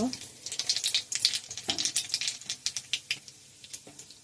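Black cumin seeds hit hot oil for tempering, giving a crackling, spitting sizzle of rapid sharp pops, close by and quiet, thinning out toward the end.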